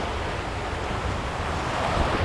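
Waves wash onto a Lake Michigan beach in a steady broadband surf hiss, mixed with wind buffeting the microphone, with no voices.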